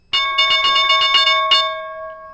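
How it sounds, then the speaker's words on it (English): A bright bell rings loudly in a rapid burst of repeated strikes for about a second and a half, then its tone hangs and fades, signalling the trading session. "So there's the bell"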